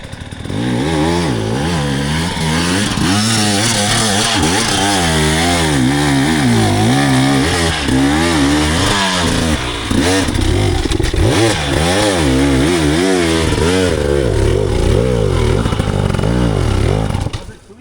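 Two-stroke KTM 300 or Husqvarna 300 dirt bike engines on a hilly off-road trail, loud and close, revving and bogging in rising and falling pitch sweeps as a rider climbs and passes, steady throughout with no talk.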